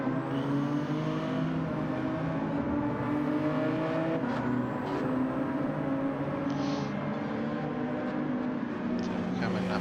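Race car engine droning steadily through a lap in Gran Turismo 7, with a continuous high revving whine shifting pitch under steady commentary.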